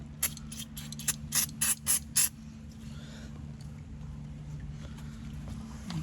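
Parts cleaner sprayed in several short hissing bursts during an oil change on a 2020 Nissan Pathfinder, close by, clustered in the first couple of seconds over a steady low engine-like hum.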